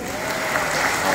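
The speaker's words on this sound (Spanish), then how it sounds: "Un aplauso." A congregation at a Sunday Mass in church breaks into brisk, dense applause. The clapping is steady and fills the room for a moment, with no talk over it.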